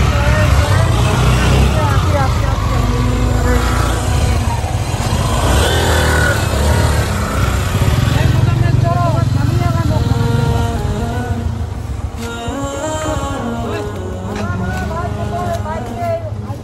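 A motorcycle engine drones steadily on a bike trip to Sherpur, loud and close throughout, with people talking over it.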